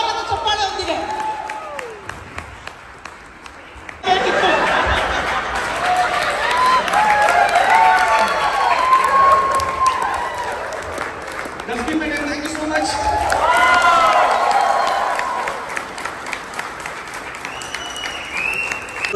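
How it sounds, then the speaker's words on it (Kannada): Loud, sustained applause from a crowd at a performance in Lulu Mall, rising abruptly after a quieter opening and holding steady with scattered cheers, with voices talking over it. "ಜೋರಾದ ಚಪ್ಪಾಳೆ ಹೊಂದಿದೆ"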